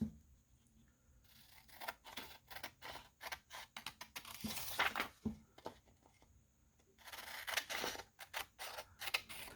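Scissors snip paper close by, cutting out a junk journal tag base in a series of quiet, irregular crisp clips and rustles, with bursts of rapid cuts between short pauses.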